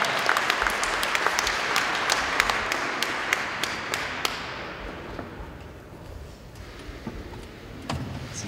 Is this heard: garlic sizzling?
no